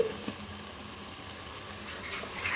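Crabs added to a frying gravy masala give a soft, steady sizzle at moderate distance, with a few faint clinks and stirring noises and no talking.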